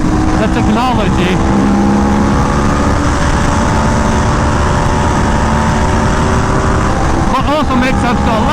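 An Aprilia RSV4 1100 Factory motorcycle engine at speed, a loud, continuous roar with a shifting pitch, mixed with heavy rushing wind and what may be a voice.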